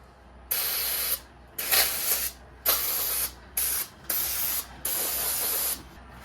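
Brake cleaner hisses from an aerosol can onto boat jack plate parts in six or seven sharp bursts of varying length, loud and close with brief pauses between sprays.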